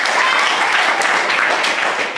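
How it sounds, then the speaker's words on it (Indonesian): An audience at a school assembly claps together in a brisk, dense burst that stays loud and even for a couple of seconds. "sekali lagi tepuk tangan untuk cicit kakek ya"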